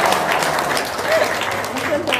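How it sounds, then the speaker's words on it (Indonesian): An audience applauds in a steady wash of clapping at moderate volume, with voices murmuring underneath throughout. "Tepuk tangan dong."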